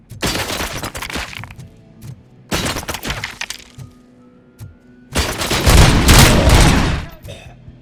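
Gunfire in RoboCop: Rogue City bursts out in three loud volleys aimed at the player, sharp cracking shots and rattling fusillades with a heavy, sustained barrage at the end and brief pauses between.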